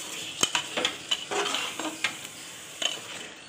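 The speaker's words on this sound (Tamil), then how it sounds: "இப்போ எல்லாத்தையும் சேர்த்து ஒன்றா கிளறி விட்டுக்கலாம்" Chicken biryani masala being stirred together with yogurt in a pot, giving a series of soft scraping and squelching strokes with light clinks of a spoon, close and fairly quiet, with no talk.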